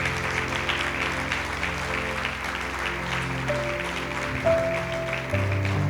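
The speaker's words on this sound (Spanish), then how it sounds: "Denles un aplauso, por favor." Church congregation applauding a pair of pastors, a steady dense wash of clapping filling the room at moderate level, with low organ or keyboard tones sustaining underneath.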